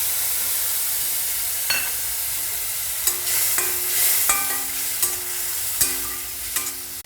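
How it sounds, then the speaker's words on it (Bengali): Ground coriander, cumin and Kashmiri chili powder stirred in a hot pan for a Bengali hilsa-head and taro-stem dish, a steady close sizzle with scattered spoon scrapes and clinks, no voices. "এই মশলাটা দিয়ে আমি একটু কষিয়ে নেব।"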